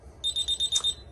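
A home alarm system chimes as a door zone opens, giving a tight burst of bright, identical electronic beeps at a steady rapid rhythm, near and distinct, with quiet room tone and no speech.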